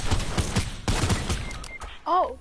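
Bursts of video game gunfire crackle through the first half, rapid and dense, then fade out as a voice speaks briefly near the end.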